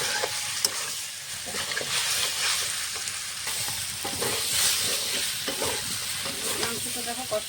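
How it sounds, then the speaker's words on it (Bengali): Fried chicken pieces and potato are stir-fried with spices in a pan, a loud continuous sizzle with repeated scraping stirring strokes throughout and no talking. "মশলার সঙ্গে চিকেনটা নেড়ে চেড়ে আলুটাও দিয়ে দেবো। এখন ভালো করে কষাবো।"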